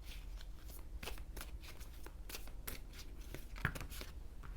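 Tarot cards are shuffled by hand in repeated crisp riffling bursts, close and fairly quiet, with no talking over them.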